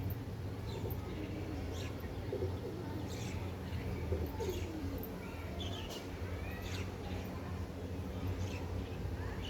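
A female pigeon coos softly and repeatedly in a noisy setting among other birds. The low coos are faint and steady throughout, with muffled background chatter.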